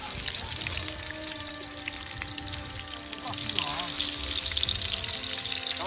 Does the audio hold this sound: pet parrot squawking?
no